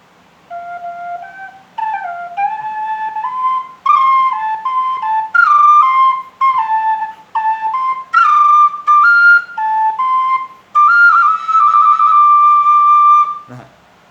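A solo Thai bamboo flute plays a breathy, airy melody in short phrases, each note bent and flicked with quick Thai-style ornamental slides, close and clear.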